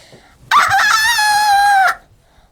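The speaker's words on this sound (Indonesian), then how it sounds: "Kokokan ayam memeriahkan suasana pagi yang sepi itu." A single loud, close rooster crow rings out for about a second and a half, standing alone against a quiet background.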